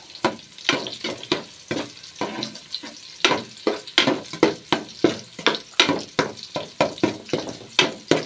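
Garlic sizzling and frying in a pan as the base for ginisang monggo, with steady crackle broken by repeated close scraping strokes of a spatula stirring the pan, loud and without talk.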